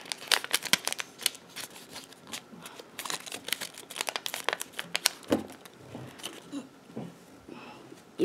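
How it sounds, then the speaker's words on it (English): Origami paper being folded into a bunny gives close, crisp crinkles and sharp creasing snaps in irregular bursts throughout. "We're gonna take it and fold it in half right"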